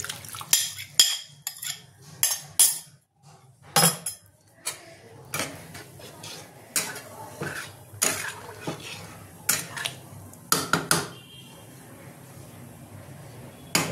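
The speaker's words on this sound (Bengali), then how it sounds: "বাটিটা ধুয়ে দেবো" A bowl is rinsed with warm water in a home kitchen, giving intermittent clinks and knocks of dishware and light splashing at a close, quiet level.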